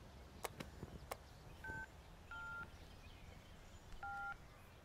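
Telephone keypad tones dial a number on a handset in a quiet room, with a few clicks at the start followed by short paired beeps spaced apart.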